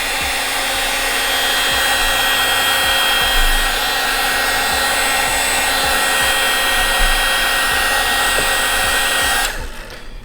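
A heat gun blows steadily and loudly while warming a vinyl badge wrap on a VW MK2 Tiguan, a continuous whooshing hum that runs unbroken for about nine seconds before cutting off abruptly.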